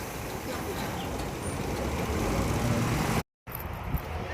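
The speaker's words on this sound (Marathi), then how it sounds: "जाकादेवीत आहे आणि जबरदस्त असं ट्रॅफिक वाढलंय" Heavy road traffic rumbles steadily through Jakadevi market town, a dense, continuous wash of engines and tyre noise with trucks and buses close by, then briefly cuts out before resuming.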